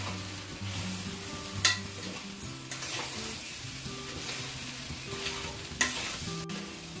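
Sabudana khichdi being stirred and fried in a pan at home, a continuous close sizzle broken by a few sharp scrapes and knocks of the spoon against the pan, with no voices.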